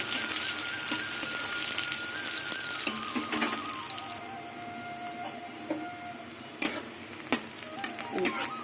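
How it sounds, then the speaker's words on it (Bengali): Chopped onions, later joined by garlic, sizzle and fry in a pan for a shrimp and taro-leaf dish, a steady hiss broken by a few sharp clinks of stirring near the end, with no talk. "কুচনো পেঁয়াজগুলো দিয়ে দেবো এবার কিছুক্ষণ ভেজে নেব"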